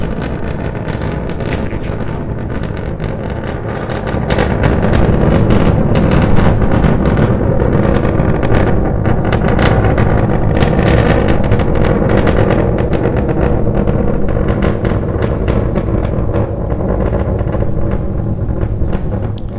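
Thunderous, continuous roar of SpaceX Starship rocket engines climbing on a test flight toward 10-kilometer altitude, heavy low rumble with crackling texture, swelling louder after a few seconds and staying intense, with wind buffeting and no voices.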